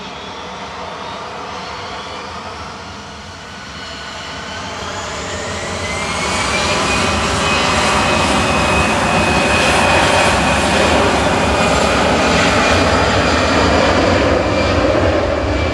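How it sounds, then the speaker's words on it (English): An easyJet Airbus A320 Classic, six years old, departs Manchester Airport bound for Belfast, its jet engines roaring in a loud, sustained rumble that swells and holds steady as the aircraft accelerates away. "Departing in front of us next is EasyJet to Belfast with flight 701"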